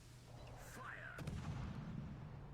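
Naval artillery firing in World of Warships, a distant boom followed by a low rumbling roll of gunfire, fairly faint, with a whistling whoosh sweeping through beforehand.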